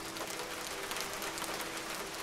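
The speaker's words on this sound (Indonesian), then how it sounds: "Waktu itu gerimis itu datang mah." Light drizzle falls in a quiet, even patter of fine raindrops on surfaces, a soft continuous hiss with no one speaking.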